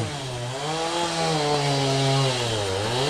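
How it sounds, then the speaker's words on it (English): A chainsaw running across the street, its engine droning steadily with rising and falling revs, loud and continuous throughout with no speech over it. "Sounds like Stuart has just started up the chainsaw over the street. I'm sure you can hear it"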